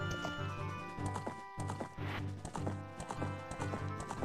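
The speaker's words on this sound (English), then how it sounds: "And the horse is waiting right here for you." Game horse hooves clip-clop at a steady trotting rhythm in The Legend of Zelda: Ocarina of Time, loud and continuous over layered in-game music and ambience.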